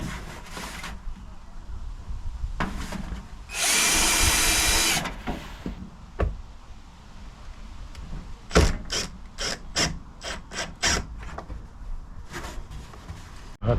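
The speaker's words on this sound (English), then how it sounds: "So I started screwing this replacement horizontal rail in, and I've put a bit of extra reinforcing on there." A drill drives screws into a replacement horizontal wooden rail in a rotten 30-year-old camper, giving one long whirring burst followed by a series of short, ratcheting pulses close by.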